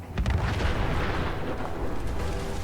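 Explosions in the video game Fallout 4 rumble loud and continuous, with deep booming bursts near the start trailing into a sustained low roar.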